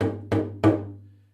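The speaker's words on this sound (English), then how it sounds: "the reason why this drum is called a talking drum" Three resonant West African talking drum strokes in quick succession, the drum held loosely under the arm, each with a low hum that rings on and fades slowly after the last hit.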